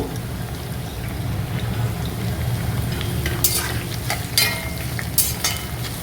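Chopped shallots being sautéed and stirred in a pan for a Kerala-style beef roast, giving a steady soft sizzle with a few sharper scraping clinks of the spoon near the end, with no one talking.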